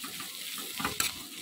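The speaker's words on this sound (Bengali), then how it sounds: "এখানে উচ্ছে ভাজা এখন বসিয়ে দিয়েছি" Sliced bitter gourd fries in a pan, giving a soft, steady sizzle with a couple of brief stirring clatters, heard faintly without any talk.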